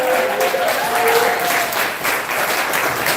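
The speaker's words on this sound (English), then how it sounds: "while you're clapping" Loud, continuous applause from a poetry slam audience, a full crowd clapping steadily with a brief sung or held vocal note drifting through the first half-second.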